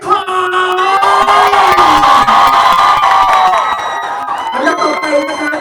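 A large crowd at a Thai event claps, cheers and shouts loudly and continuously, with excited whoops rising over a steady roar of voices.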